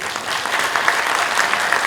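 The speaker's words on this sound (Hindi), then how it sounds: "जिस प्रकार आप ताली मार रहे हैं" An audience clapping at the launch of Project UPSC at Raj Bhawan, a dense, loud and even burst of applause from many hands that keeps going with no break.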